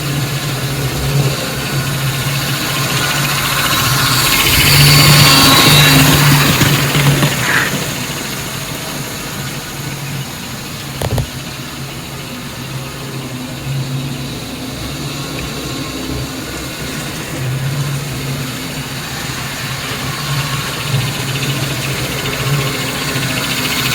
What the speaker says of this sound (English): the secondary whine is actually the smoke and tinder motor